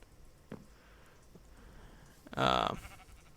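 A single loud video game sheep bleat rings out near the end, preceded by a faint click and low background hum.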